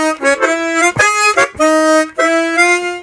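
A short harmonica lick of sustained reedy notes, broken by a quick, smeared chord burst in the middle before the held tones return.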